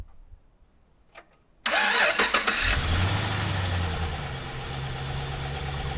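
A Chevrolet Caprice drag-and-drive car cranks briefly, then its engine catches loudly at close range and settles into a steady, rumbling idle.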